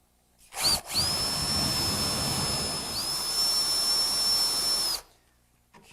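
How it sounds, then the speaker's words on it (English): A power drill bores dowel holes through a wooden bench top, giving a steady, loud, high whine that runs about four seconds, with a short start-up burst and then a clean stop. "now I'll just drill them through"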